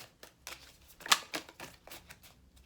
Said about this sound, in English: let me shuffle one more